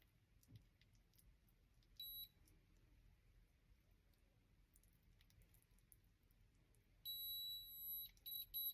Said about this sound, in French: la sonnerie finale m'indique que les 2 minutes sont passées